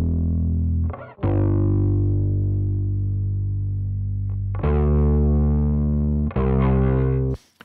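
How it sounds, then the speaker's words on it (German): A bass guitar runs through an Ampeg B15N tube amp emulation plugin set for distortion, playing long sustained, fuzzy low notes in a few separate held phrases, loud and alone. "B15N ist das, eine Nachbildung von dem Röhrenverstärker, und die klingt mit dem Amp so eingestellt wie folgt."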